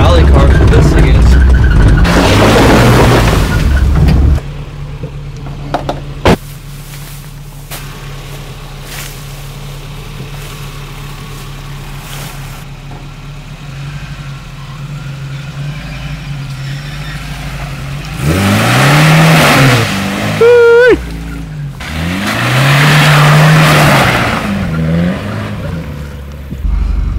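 A 1964 Isuzu Amigo's engine revs hard in bursts while off-roading and getting stuck in mud, with a steady idle between surges and loud, close, wavering revs near the end, and people talk over the opening.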